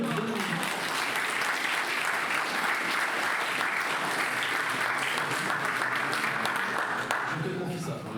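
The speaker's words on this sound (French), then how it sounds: "on peut déjà applaudir nos deux" Sustained crowd applause at a French festival awards ceremony, a continuous wash of many hands clapping that holds steady for several seconds with faint cheering mixed in, tapering slightly at the very end.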